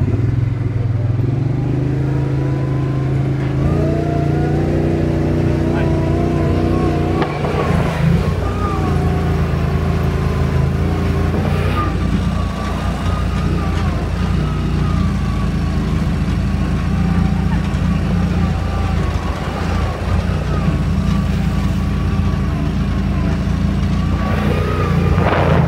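Engine of a car being drifted revs loudly and continuously up close, rising and falling in pitch with clatter throughout, with people talking over it at times.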